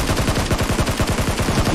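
Rapid automatic gunfire rattles in a shooter video game, a dense loud unbroken string of shots close up with no talking.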